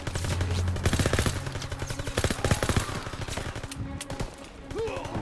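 Sustained rapid gunfire in the World War II shooter Call of Duty WWII, dense bursts of automatic shots crackling loud and continuous with a few scattered single cracks and battle noise.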